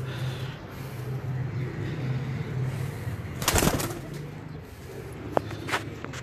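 Salara teddy pigeons cooing softly in a steady low hum that runs nearly throughout, with a brief burst of broadband noise midway and a few faint clicks near the end.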